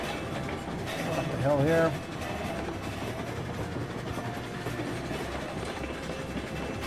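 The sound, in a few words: steam locomotive pulling a train uphill, video game Railroads Online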